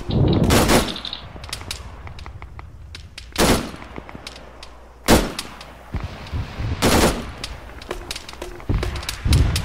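Gunfire in the ArmA 3 military shooter: loud, sharp single shots and short bursts ring out at uneven intervals, with quieter distant pops and clatter between them.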